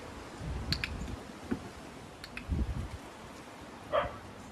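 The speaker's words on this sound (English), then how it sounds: "even though the other dog is barking from inside" A dog barks from inside a house, a few short, muffled barks spread out and somewhat distant, with soft clicks nearby.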